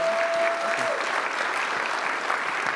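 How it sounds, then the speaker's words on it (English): Conference audience applauding a session's presenters, a steady dense clapping that holds evenly for under three seconds with a faint tone briefly underneath at the start. "Give them a round of applause."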